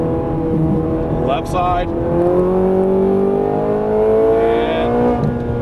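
A Ferrari 430 Scuderia on a racetrack pulls hard through the gears, its loud, rising engine note climbing steadily with brief shifts, while people talk over the noise inside the car.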